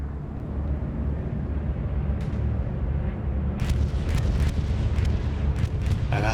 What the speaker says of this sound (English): Bombing run coming in.